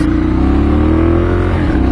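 A Ducati Monster motorcycle engine revs steadily at a constant high pitch, loud and close, with a slight dip near the end.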